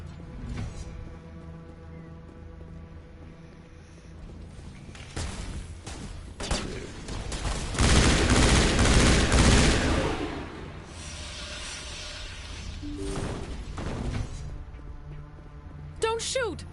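Gunfire in Mass Effect, scattered shots and a dense burst of firing in the middle, heard under frequent talking.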